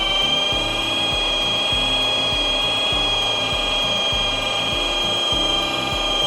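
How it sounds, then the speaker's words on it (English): A power buffer runs a wool pad with compound, a steady motor whine layered with a rhythmic rubbing pulse as the pad sweeps back and forth, loud and close. "I'm going to take my pad and my buffer, and I'm just going to work it back and forth."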